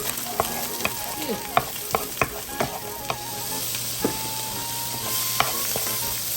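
Half an onion sizzles in a hot pan, a steady crackling fry broken by sharp clinks and scrapes of a utensil stirring against the metal.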